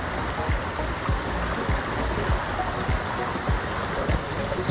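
Water in a creek flows and splashes continuously in a steady rushing wash with small bright gurgles, heard up close and alone as mist rises off the surface.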